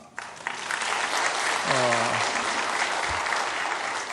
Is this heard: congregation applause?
yes